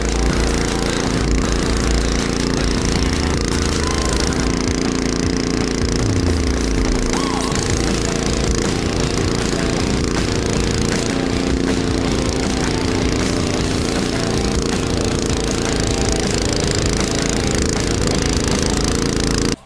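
An Ariens snow blower engine runs loud and steady throughout while clearing snow, a continuous mechanical roar with churning texture and no break.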